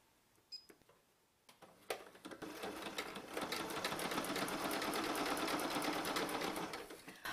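Sewing machine zigzag stitching a blue jeans envelope purse, starting with a few soft clicks and taps before ramping into a steady close whirring run that continues to the end.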